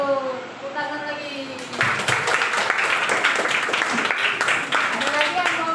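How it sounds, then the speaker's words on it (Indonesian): Children in a primary classroom break into brisk group clapping partway through, dense and lively, after a stretch of speech and musical tones; voices continue faintly under the clapping. "Tepuk tangan lagi."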